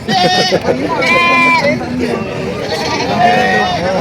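Goats at a Batangas livestock market bleat loudly and repeatedly, several overlapping cries close by amid crowd chatter and someone talking.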